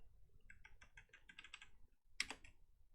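A rapid run of light clicking keystrokes on a computer keyboard, a brief pause, then a single louder tap; close and quiet, no talking.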